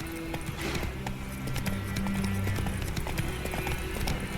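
Hooves of Geralt's horse Roach clip-clopping in The Witcher 3: Wild Hunt at a steady trotting rhythm, moderately loud over a bed of ambient game sound, with brief voices mixed in.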